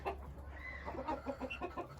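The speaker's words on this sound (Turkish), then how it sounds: "Brahma horoz" A Brahma rooster and a mixed flock of hens cluck softly in a dim coop, with irregular short clucks and murmurs over a steady low hum, fairly close and moderately quiet.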